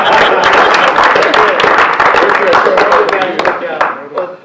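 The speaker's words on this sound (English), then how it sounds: "Let's give the investor another round of applause" An audience claps for an investor at a civic gathering with the mayor, a dense burst of applause that stays loud and steady before tapering off near the end.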